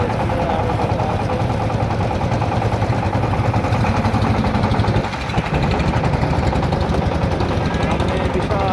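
A boat's engine chugs loud and steady in a rapid, rattling rhythm throughout a river trip toward Sylhet's Sada Pathar, close by and continuous with only a brief dip.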